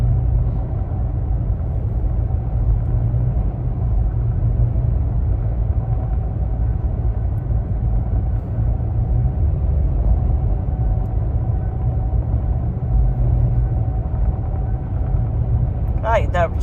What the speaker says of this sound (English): The truck is noisy,